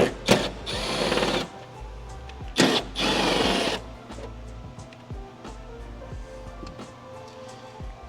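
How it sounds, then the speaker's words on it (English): Two bursts of a power tool, likely an impact driver, removing 8mm nuts from the OEM bodykit on a 2021 Acura TLX Type-S, each lasting about a second, close and loud, followed by quieter clicks and handling of parts. "So we're going to start by removing the 8mm nuts."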